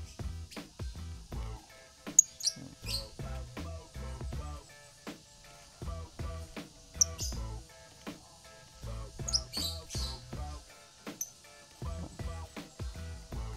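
A lovebird chirps in short, sharp bursts, repeated high tweets close by, with faint lower clicking and rustling between calls.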